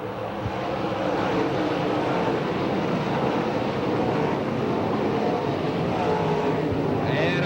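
Dirt track race cars roar together at the start of a qualifying heat race, a dense, steady engine drone from a pack of cars heard from the stands.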